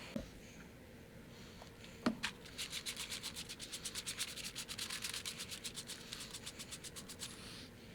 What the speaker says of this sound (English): I'm going to use a foam brush to make it go a little bit faster